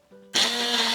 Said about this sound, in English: using my hand blender, I will be blending it until I get a lovely and velvety cream